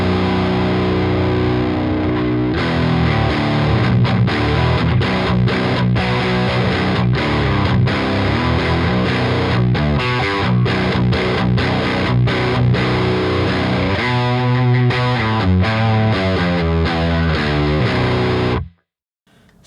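Heavily fuzzed stoner doom guitar riff through the Apocrypha fuzz pedal plugin by XE Consulting, with thick sustained distorted chords and shifting notes playing continuously and loud, with no voices, before cutting off abruptly at the end.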